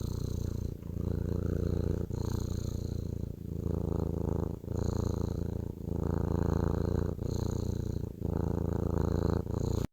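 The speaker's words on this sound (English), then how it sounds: "That's the sound of purring of my cat." A cat purrs close up in a steady rhythmic rumble, each breath cycle pulsing in and out, with no other sounds.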